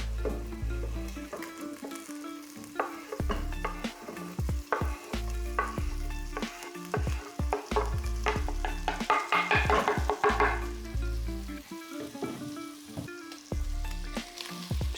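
Chopped chili, finely cut fresh thyme and a bay leaf sizzling in a hot pot while being stirred, a steady frying hiss broken by scraping and clattering stirring strokes, close and moderately loud, with no voices.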